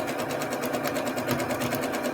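A sewing machine back-stitches the end of a quilt block seam, a steady, close, continuous rapid needle chatter with no talking.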